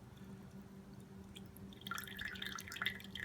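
Filtered water drips and trickles from a Sawyer Mini 0.1 micron water filter, faint at first and then building into a quicker patter of drops for the last second or so, with no voices.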